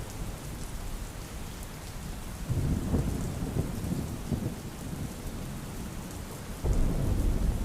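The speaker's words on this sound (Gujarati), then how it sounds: "ભારે વરસાદ વરસી રહ્યો છે" Heavy monsoon rain pours steadily in Amreli, Gujarat, as low-lying villages flood, with a dense hiss throughout. Deep rumbles of thunder roll in partway through and again near the end, loud and close, with no voices.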